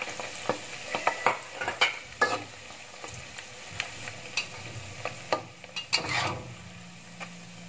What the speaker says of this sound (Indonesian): Hati-hati goreng ikan cakalang karena dia akan muncrat ya.